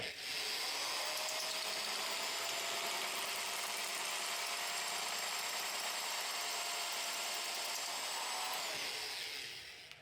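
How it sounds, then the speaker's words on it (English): A power saw cuts through PVC pipe in a minitruck build shop, a steady, loud high-pitched whine holding for about eight seconds before winding down, with no talking. "that thing cuts really nice in the PVC"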